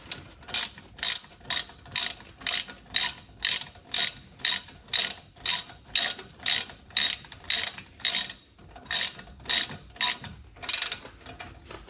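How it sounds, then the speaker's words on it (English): A ratchet tightens the brake caliper bolts on a Vauxhall Corsa E, giving a close, loud, evenly spaced series of about seventeen short clicking bursts with brief pauses between them. "once you've got a few threads in, switch to a ratchet"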